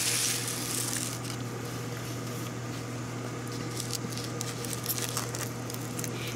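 Pieces of French bread pizza heating up: a steady low hum with light crackling patter spread across it, continuous and moderately loud, with no one talking.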